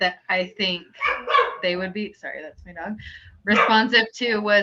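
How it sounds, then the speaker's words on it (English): A dog barks in the background while someone talks over it, its sharp barks overlapping her steady speech at moderate loudness. "sorry, that's my dog"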